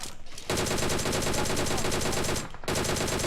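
Rapid automatic gunfire in the PUBG Mobile video game, two long dense bursts of fast shots with a brief break between them, loud and close.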